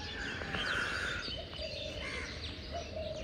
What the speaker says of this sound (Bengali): ও পাখির কিচিরমিচির সাউন্ড।